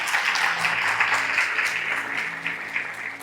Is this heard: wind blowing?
no